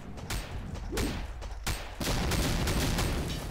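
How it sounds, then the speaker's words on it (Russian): Several sharp booming blasts and bursts of gunfire-like cracks in the video game SWAT and Zombies 2, with a dense rumble building afterward, sounding like distant explosions in a busy battle scene. "Что это за взрыв такой был?"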